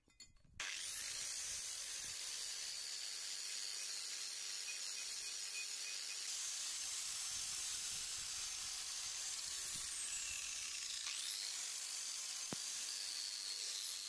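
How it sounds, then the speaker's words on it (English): An angle grinder fitted with a wire cup wheel scours surface rust off metal brackets, a loud, steady high-pitched whir and hiss that runs almost unbroken after a short start, with a brief dip near the end. "So with the angle grinder cleaning up those brackets very nicely"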